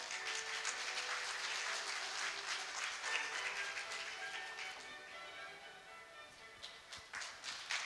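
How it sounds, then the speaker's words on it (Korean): At a human resources development conference, an audience claps to welcome an official to the stage: steady, fairly faint applause from a large crowd that thins into scattered individual claps near the end. "큰 박수로 환영해 주시기 바랍니다"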